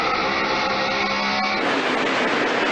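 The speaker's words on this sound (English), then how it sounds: "Did you hear that wheel spin, Benny?" A NASCAR stock car at Bristol Motor Speedway spinning its wheels, a loud sustained engine roar that shifts pitch and grows harsher partway through, close and dominant with no talk.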